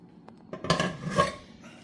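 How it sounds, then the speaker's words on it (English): A spoon stirs homemade BBQ sauce in a pot off the heat, making a few scraping clinks against the pot's sides over about two seconds, moderately close and with no talking. "Let's give it a quick stir."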